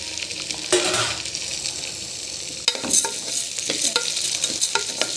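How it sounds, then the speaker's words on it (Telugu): Toor dal and chana dal frying lightly in a pan for gongura dal, a steady low sizzle with scraping stirs and occasional clinks of the spoon, close, no talking. "ఈ కందిపప్పు శనగపప్పు రెండు లైట్గా వేసుకోవాలి"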